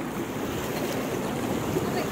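Ocean waves wash against rocks along a beach, a continuous broad roar of surf with wind noise across the whole stretch.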